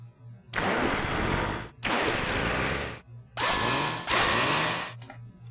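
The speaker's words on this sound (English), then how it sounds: "this is pretty much the drill that I made, the drill instrument that I made in the previous video" Four loud bursts of harsh, grinding synthesized drill sound effect, each about a second long with short gaps, ending in a few quick stuttering hits, over a steady low hum.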